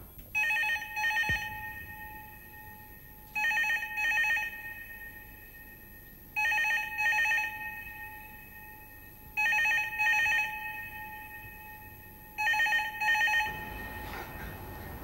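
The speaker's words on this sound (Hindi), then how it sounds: "कोई फोन नहीं उठा रहा?" A telephone rings in five evenly spaced double bursts, clear and moderately loud, with quiet pauses between rings and no talking.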